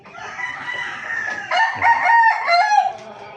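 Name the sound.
roosters crowing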